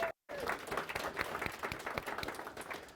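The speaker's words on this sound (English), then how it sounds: "So give yourselves a round of applause" A room of coworkers at a workplace celebration gives a warm round of applause, dense clapping from many hands that starts after a brief silent gap and holds steady to the end, with a few voices mixed in.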